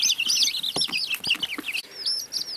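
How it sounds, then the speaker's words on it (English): Young baby chicks in an off-grid coop give a steady stream of high, rapid cheeps and peeps, close and lively, with no talk over them. "Here's my off-grid little baby chicks."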